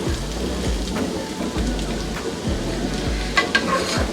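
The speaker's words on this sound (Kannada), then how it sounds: "ಈಗ ಹಾಕ್ಕೊಂಡು ಇದನ್ನು 1 ನಿಮಿಷದಷ್ಟು ಎಣ್ಣೆನಲ್ಲೇ ಫ್ರೈ ಆಗೋದಕ್ಕೆ ಬಿಡಬೇಕು." Boiled black-eyed beans fry in oil with browned onions, giving a steady, dense sizzle like rain on a surface, broken by stirring scrapes and a couple of brief clinks near the end.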